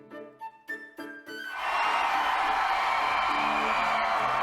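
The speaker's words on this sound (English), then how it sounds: "Wow, that crowd was amazing." An opera crowd in Fire Emblem Three Hopes Scarlet Blaze erupts into loud, sustained cheering and whooping, swelling up after a few brief musical tones and holding steady at full volume.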